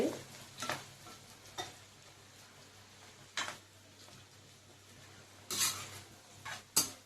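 Onions for capsicum masala frying in a pan under a soft steady sizzle, with a handful of sharp spatula scrapes and taps as they are stirred, close by, no speech.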